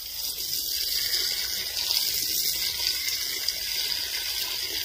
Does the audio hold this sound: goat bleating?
no